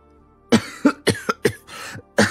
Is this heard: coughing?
yes